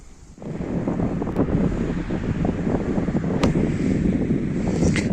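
Strong, steady wind roars and buffets the microphone without letup at an abandoned high-rise in eastern Thuringia, with faint knocks and rattles mixed into the gusts.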